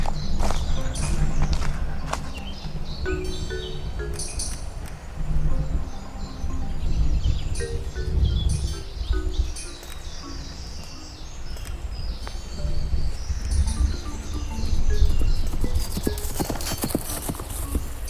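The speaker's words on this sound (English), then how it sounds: "A horse, you idiot." Horse hooves clip-clop steadily through a scene from a full-length movie, with faint birdsong and scattered background noises around them.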